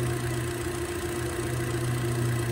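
A Hyundai 16-valve overhead-cam car engine idles smoothly and steadily, a continuous low hum with a faint even mechanical whir, close by and unchanging throughout.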